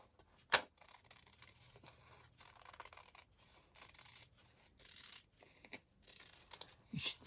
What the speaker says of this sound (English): I'm confident enough to cut this with my scissors